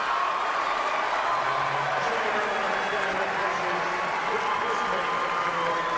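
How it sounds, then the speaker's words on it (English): A basketball arena crowd at a college championship quarterfinal gives a sustained, dense round of applause for a senior player, a steady wash of clapping and crowd noise with no break throughout. "He'll get a nice round of applause from the folks from New York City."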